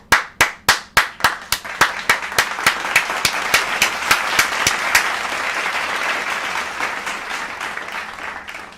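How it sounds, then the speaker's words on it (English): An audience claps in unison, loud sharp synchronized hand claps at a quick steady beat that speed up and then dissolve into a dense wash of scattered applause fading toward the end. "Clap it up for Mike."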